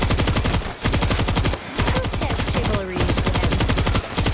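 Rapid automatic gunfire against zombies in World War Z roars almost without pause in dense, rhythmic bursts, loud and close, with short gaps between volleys.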